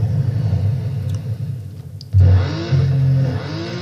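Video game car engine revving hard: a steady low rumble that surges louder partway through, with rising engine tones as it accelerates.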